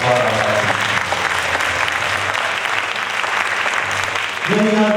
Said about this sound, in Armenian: մենք գնահատում ենք այս ծափահարությունները